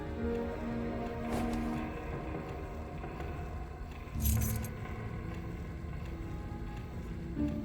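A bunch of keys picked up in a Black Mirror III horror game, brief metallic jangles standing out over a constant dark ambient drone, with a louder rattle midway and a small clink at the end.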